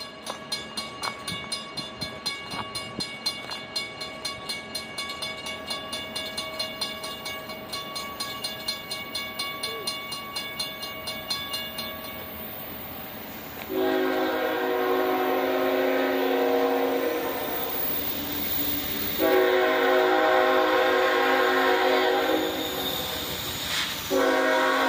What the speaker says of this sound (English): All aboard the CSX Railroad!